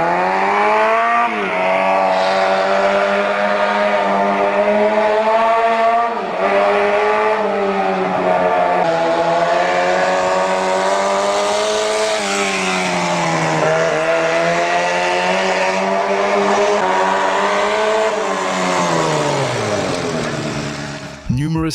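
A homemade motorcycle with a small four-cylinder engine runs steadily and loudly through test laps, its pitch rising and falling as it accelerates and eases off, with a smooth, continuous drone throughout.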